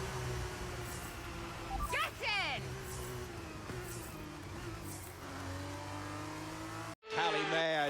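A Formula One race car in the F1 23 video game driving through the last corner to the finish line of a sprint race in the Netherlands, a sustained high engine whine with rising shifts, under continuous excited commentary.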